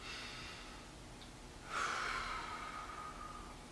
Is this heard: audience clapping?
no